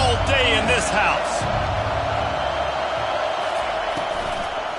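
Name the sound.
stadium crowd noise at LSU college football game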